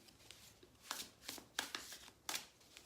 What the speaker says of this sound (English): I usually don't shuffle the deck halfway through the reading